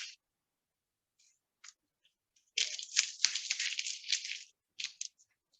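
Tape is peeled off a dried acrylic painting with a long, close, crackly ripping sound lasting about two seconds, set between a few short quiet peeling ticks in otherwise silent surroundings.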